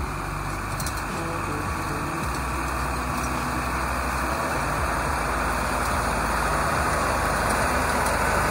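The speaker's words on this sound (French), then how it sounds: "j'ai un tracteur qui arrive" A tractor approaches through a steady, loud low engine rumble with a diesel idling character, the drone of a small drone's propellers running over it continuously throughout.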